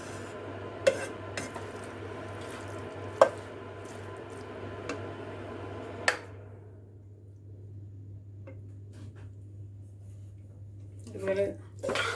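Bean mash stirred in a pot with a spoon before the lid goes on: a few sharp utensil knocks against the metal over soft squelching, then a quiet stretch and a faint clatter at the end, over a low hum.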